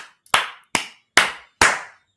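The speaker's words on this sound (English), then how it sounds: "Clapping." Four sharp, loud hand claps ring out in an even rhythm, each one ending with a short echo before the next.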